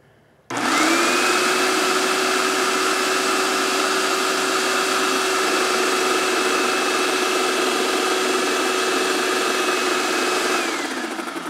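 A Titan Control Max 1900 airless sprayer pump switches on and runs on prime, producing a sudden start followed by a loud, steady motor whine with a constant tone, then begins to fade near the end.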